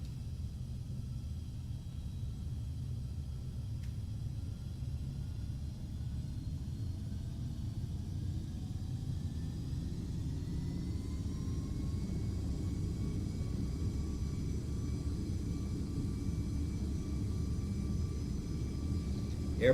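A steady low engine rumble and drone of an airplane taxiing slowly on the ground in Microsoft Flight Simulator X, with faint rising engine tones, continuous and moderately quiet throughout.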